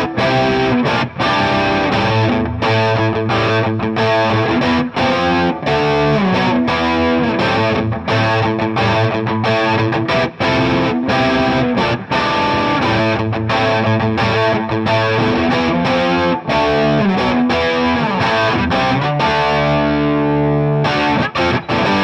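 An electric guitar runs through an Andrews Para Dyne 20 combo amp at medium gain, with tight, punchy distorted power chords and riffs played in a steady rhythm, loud and without any talking.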